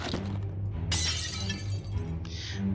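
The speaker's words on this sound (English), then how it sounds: "A good section of the mirror shatters, revealing metal underneath." A mirror shatters in a sharp crash from a hammer swing in the video game Shadowgate, followed by tinkling shards, over a low steady rumble.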